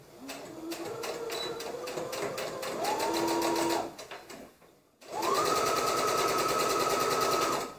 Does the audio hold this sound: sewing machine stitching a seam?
yes